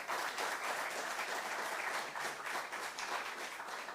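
An audience at a senior high school quiz competition claps for a competing team, a continuous, even patter of many hands heard from a distance and fairly soft.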